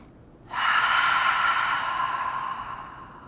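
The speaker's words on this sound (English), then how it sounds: "Give yourself a breath." A single breath taken during yoga practice, a sharp airy inhale that begins abruptly and then slowly fades over a few seconds in a quiet room.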